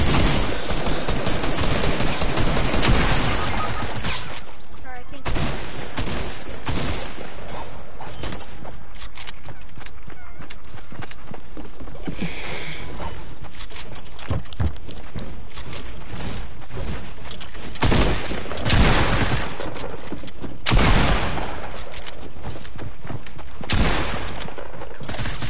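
Submachine gun fire in a video game rattles in rapid bursts, loud and close, with dense volleys at the start and shorter sporadic bursts scattered through the rest of the clip.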